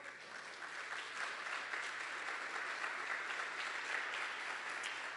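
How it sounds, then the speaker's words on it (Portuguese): Steady applause from a church congregation during an evening service, a moderately distant wash of many hands clapping continuously for several seconds. "Você pode dar um aplauso ao Senhor?"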